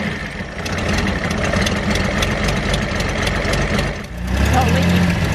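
A Datsun 240Z engine idles with a rough, steady, loud rumble close up, dips briefly near the end and then picks back up, while someone talks over it.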